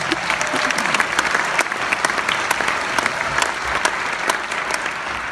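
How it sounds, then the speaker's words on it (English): A sustained round of applause from an audience at an event marking the 1969 Santa Barbara oil spill, many hands clapping loudly and evenly for about five seconds with faint crowd murmur underneath. "Let's give them a round of applause."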